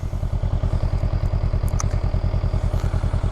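A 2023 Honda Rebel 500 SE motorcycle cruising along a reservoir road, its engine giving a steady, loud, rapid pulsing throb close to the rider, with no talk over it.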